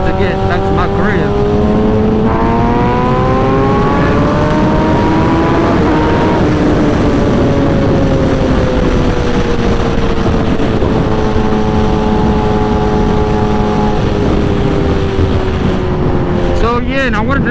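A 2008 Suzuki GSX-R 1000 motorcycle engine runs loud and close, its tone rising and falling through rev changes with steady harmonic whine and wind noise throughout.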